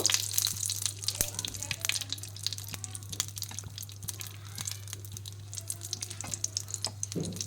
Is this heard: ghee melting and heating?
yes